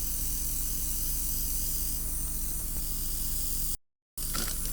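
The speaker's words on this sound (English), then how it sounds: "we're spraying bath bombs" Airbrush spraying paint onto bath bombs, a steady close hiss of air running for several seconds, then cutting out abruptly before briefly resuming.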